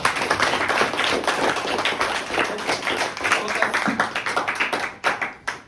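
A class of students claps together in a room, a dense burst of many hands that thins into scattered, uneven claps before trailing off.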